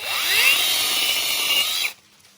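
A powered saw whines loudly while trimming tree branches, cutting steadily for about two seconds before cutting off abruptly.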